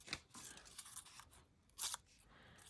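Scissors snip through a paper strip scrap to trim it narrower, a series of quiet, close crisp cuts with one sharper snip near the end.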